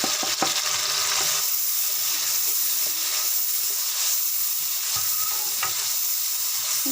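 Onions frying in a pan with spices being added and stirred, giving a steady loud sizzle and hiss throughout with occasional scraping clinks of a utensil.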